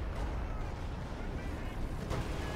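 A tank cannon shot strikes a Jackson tank destroyer in Company of Heroes 2, one deep boom rising out of a dense, rumbling wartime battle din.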